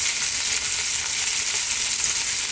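Onions dropped into hot oil with garlic ginger paste, frying in a pot for a lamb stew, give a steady, close sizzle and crackle with no break and no talk.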